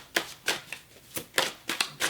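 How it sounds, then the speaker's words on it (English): Tarot cards are shuffled nearby in quick riffling bursts, about eight crisp papery flicks in an uneven rhythm with brief pauses between them, with no talk. "So I'm going to shuffle some tarot."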